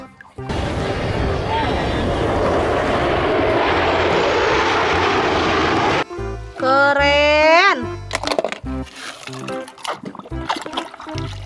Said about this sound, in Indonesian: Pesawat militer.